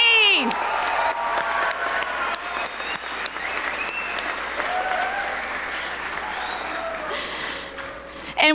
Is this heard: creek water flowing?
no